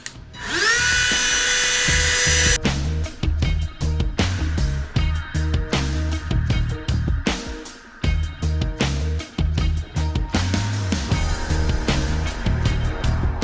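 Rotary tool spinning at its top speed of 33,000 RPM grinds a port on a Honda Odyssey FL250 two-stroke engine, giving a loud, steady high-pitched whine with close, rhythmic dips as the bit bites into the metal.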